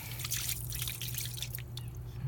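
Water rinses and drips off a motorcycle brake caliper from a Yamaha XSR900, a faint, steady patter of drips and trickling over a low background hum.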